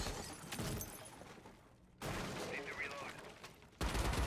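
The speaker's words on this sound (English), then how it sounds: "And we're already hearing some early gunfire." Gunfire in the video game Rainbow Six Siege during a college esports match, bursts of rapid automatic shots with sharp cracks, heard between abrupt cuts under a faint commentator voice.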